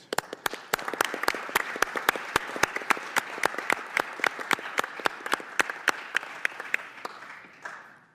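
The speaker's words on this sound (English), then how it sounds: "I'd like to give her a round of applause." A committee hearing audience applauds steadily, sharp distinct claps ringing out over a dense wash of clapping that fades near the end, with no talk.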